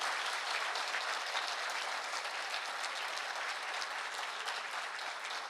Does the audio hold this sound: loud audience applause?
yes